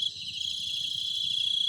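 Crickets chirp at night in southern Laos, a dense, steady high-pitched trill that carries on without pause through the short stretch, with faint low background noise and no talking.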